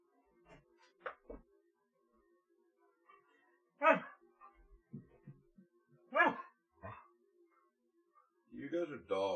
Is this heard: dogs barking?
yes